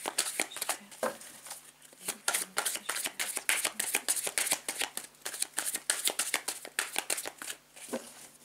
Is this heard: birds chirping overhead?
no